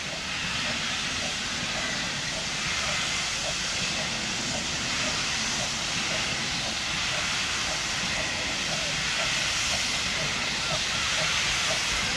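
A steam locomotive at a spring railway gala vents a loud, continuous hiss of steam that runs unbroken from start to finish, with a faint rhythmic pulsing underneath.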